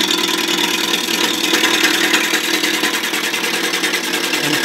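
A wood lathe spins a spindle blank while a spindle roughing gouge cuts it toward a cylinder, giving a steady, loud, continuous whirring rasp with a dense broadband hiss that holds without pause.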